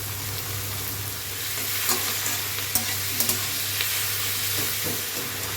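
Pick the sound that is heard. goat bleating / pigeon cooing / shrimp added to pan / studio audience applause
shrimp added to pan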